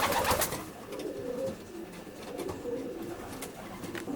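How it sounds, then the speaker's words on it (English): A racing pigeon coos softly in a loft, low repeated throaty calls over faint background noise and scattered bird sounds. "Beautiful pigeon."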